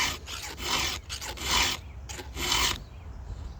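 Chainsaw teeth being sharpened with a file, close rasping strokes in three or four bursts of about half a second each with short pauses, ending in quiet.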